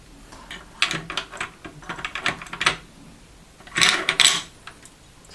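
Metal parts of an M1 Garand rifle clack and scrape as the bolt is fitted, a close run of light clicks and taps with a louder burst of metallic rattling near the end.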